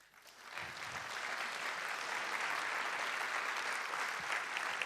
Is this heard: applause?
yes